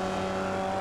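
A Formula Vee race car in iRacing at Laguna Seca runs its engine at a steady high drone, a brief, continuous buzzing tone with no pauses.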